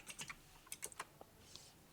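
Fingers type on a computer keyboard, a quiet scatter of irregular key clicks in short bursts with brief pauses, close and alone.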